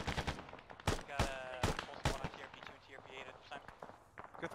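Rifle shots crack out in a first-person video game firefight around a trench, several sharp loud bursts in the first half, followed by quieter scattered shots, footsteps and movement.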